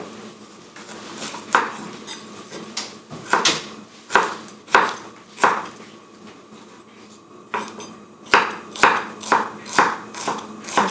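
Knife slicing thin rounds of peeled ginger on a cutting board, a quick series of sharp clicking chops in bursts with short pauses, close and fairly loud with no talking.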